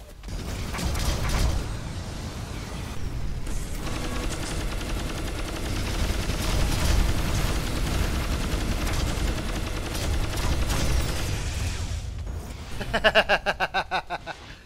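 Heavy automatic gunfire in the sci-fi shooter game Sol Contingency, a long continuous mechanical rattle of rapid shots that swells and fades, ending in a distinct burst of sharp repeated pops.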